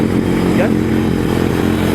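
A Kawasaki Z900 motorcycle engine runs through an aftermarket exhaust pipe, giving a steady, loud mechanical drone close by with a brief rise in pitch, while someone talks over it.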